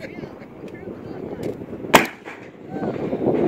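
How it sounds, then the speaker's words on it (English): An aerial firecracker bursting once with a sharp, loud crack outdoors, set against a rumbling background of wind and handling noise. "Aerial firecracker."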